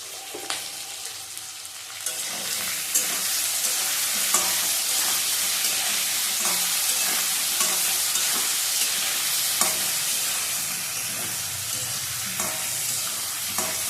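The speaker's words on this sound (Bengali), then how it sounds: "ভালো করে ভাজা হোক।" Vegetables sizzle and fry in oil in a pan while being stirred, a loud, steady crackling hiss with repeated scraping strokes of the spoon throughout.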